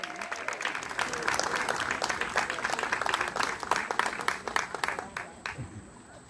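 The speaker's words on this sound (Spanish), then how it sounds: "fuerte el aplauso" Sustained audience applause at a public tribute event as a performer makes his entrance, dense clapping throughout that tapers off near the end, with voices mixed in.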